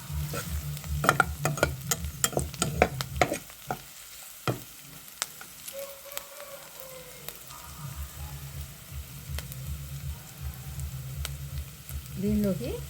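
Carrot pulihora mixture sautés in a pan with sharp stirring scrapes and clatter up front, then a steady soft sizzle that continues close and moderately loud.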